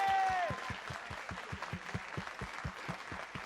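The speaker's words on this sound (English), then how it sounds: "Ladies and gentlemen, nice round of applause for the man himself, Mr. Eamonn Holmes." A television game show studio audience claps in a steady, rhythmic round of applause after a brief musical tone fades out at the start.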